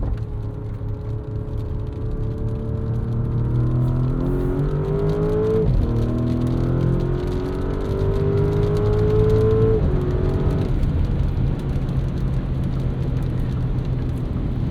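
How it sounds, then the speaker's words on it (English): A 2024 Porsche Cayenne S with its V8 and 8-speed automatic drones from inside the cabin, its engine note climbing and dropping sharply through a couple of quick downshifts, loud and steady without speech. "Crisp downshifts from the 8-speed automatic."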